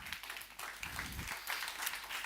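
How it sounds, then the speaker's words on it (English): An audience at a live forum breaks into steady applause, a dense crackle of many hands clapping at even strength throughout with no voices over it. "So please, round of applause."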